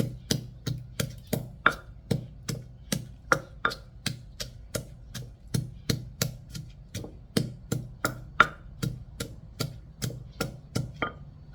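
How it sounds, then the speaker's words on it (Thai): Garlic and red chili pounded in a mortar with a pestle: a steady run of about thirty evenly spaced, close, solid thuds at roughly two or three per second, with no talk. "แล้วก็เอาพริกแดงจินดาใส่ลงไปค่ะแล้วก็ตำก่อนนะคะ"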